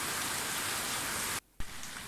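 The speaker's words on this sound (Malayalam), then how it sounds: "നല്ല മഴ തന്നെ ഒരെണ്ണം കിട്ടിയിട്ടുണ്ടായി." Heavy rain pours down in a dense, steady, close hiss, cut off by a short gap of near silence before it resumes.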